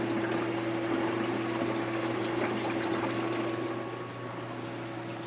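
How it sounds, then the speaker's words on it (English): An aquarium algae scrubber pump under a cover, giving a steady low hum with a faint, muffled watery gurgle throughout, fairly quiet and with no voices. "we've got the cover on the unit, which muffled a lot of that gurgling noise"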